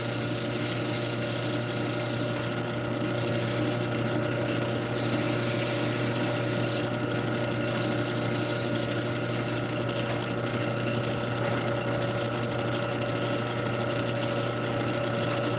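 Wooden piece being sanded and waxed on a spinning lathe, a continuous motor hum with steady rubbing friction and a few brief shifts in pressure throughout.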